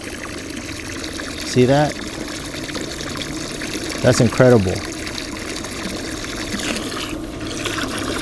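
A SMARTBOT 4200 GPH mini utility pump sucks up the last thin layer of water, giving a continuous sputtering, gurgling flow under two short bursts of someone talking.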